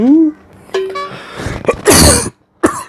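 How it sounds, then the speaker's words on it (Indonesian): A sharp cough bursts out close by, followed by a brief breathy throat sound, with a short voiced noise at the start. "Lu sampai batuk"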